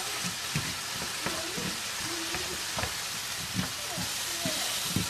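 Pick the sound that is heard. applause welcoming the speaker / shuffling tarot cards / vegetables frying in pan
vegetables frying in pan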